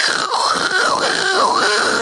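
A human voice imitates an espresso machine frothing milk foam, a continuous wavering, whistling hiss with warbling pitch swings over about two seconds, loud and close.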